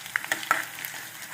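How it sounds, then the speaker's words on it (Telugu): Garlic, cumin, mustard seeds and dried chillies crackle in hot oil as a tempering for red chilli chutney, a brief close burst of sharp sputtering pops over a soft sizzle. "వెల్లుల్లిపాయలు బాగా కొద్దిగా బ్రౌన్గా వేగాక జీలకర్ర, ఆవాలు, ఎండుమిర్చి వేసి ఫ్రై చేసుకున్నాం."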